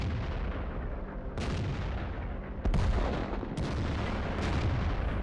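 Artillery firing in the tank battle game World of Tanks: several sharp, booming shots at irregular intervals, each with a rumbling tail over a steady battlefield hum.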